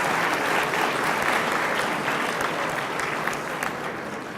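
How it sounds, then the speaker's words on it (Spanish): An audience at the 2012 APEC SME summit breaks into dense, sustained applause that stays loud and steady for about four seconds before easing slightly at the end. "Gracias por esos inmensos aplausos"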